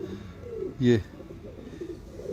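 A single short, throaty coo comes from a pigeon held in hand in Lahore with one wing spread open, close and brief, while someone talks before and after it.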